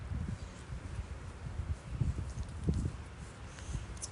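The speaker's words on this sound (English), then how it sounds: "It's getting awfully windy out here." Gusty wind blows outdoors at dusk, a steady low rumble of buffeting with stronger surges around the middle and near the end, loud and continuous with no other clear sounds.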